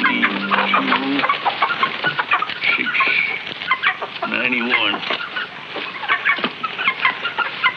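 Chickens cluck in quick, choppy bursts throughout a farm scene from a 1950s sitcom, fairly close and busy, with voices talking among them.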